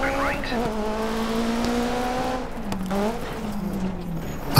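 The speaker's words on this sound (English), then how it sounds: "The car is a Fiat, don't ask me exactly" A Fiat 1970s rally car on a Kenyan gravel stage in Dirt 3, engine droning steadily with gear changes shifting its pitch, continuous and close throughout.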